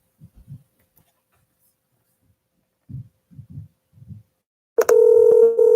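Several low thumping telephone keypad presses in small clusters, then a loud steady electronic dial tone begins and holds near the end.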